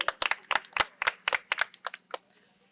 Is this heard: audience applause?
yes